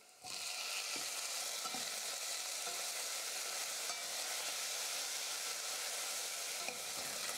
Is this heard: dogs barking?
no